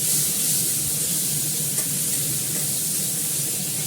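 Chopped onions frying in hot oil for a fish curry, a steady close sizzle and hiss that runs evenly throughout with no voices.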